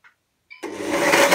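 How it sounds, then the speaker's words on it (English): A blender whirs up vegan cheesecake filling on a low to medium setting, starting after a short pause and steadily building into a loud, continuous, close whir. "blend this up on a low to medium blend"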